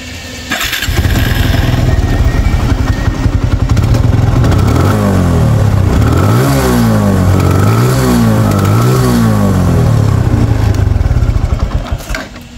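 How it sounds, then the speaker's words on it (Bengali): A TVS Apache RTR 160 motorcycle engine is started up close, settling into a steady idle, then revved several times in rising and falling bursts before idling again, loud and alone with no talk. "বাইকটা কিন্তু স্টার্ট করে সাউন্ড কন্ডিশন দেখাবো"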